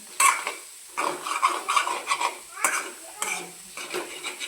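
A utensil stirs steamed red pumpkin with peanuts and chili in a pan, giving a series of close scraping and clattering strokes that arrive in uneven bursts, with a light sizzle underneath.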